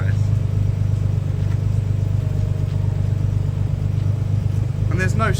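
A Nissan 300ZX, freshly started after nine years unused, runs at a steady, even idle, close and loud with a pulsing low throb throughout, and a voice cuts in briefly near the end.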